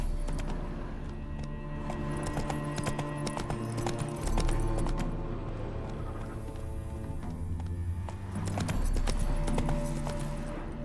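Roach the horse's hooves clip-clop steadily in The Witcher 3 over about ten seconds, with a continuous rhythmic trot under droning game music. No one talks.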